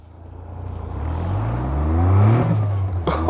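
A Caterham Seven SuperSprint, rear-wheel drive, revs hard while driving, its engine note climbing steadily in pitch and volume, close and loud, then easing off abruptly near the end.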